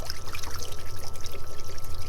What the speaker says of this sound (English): What I'm going to do is rinse it in my little bucket of water.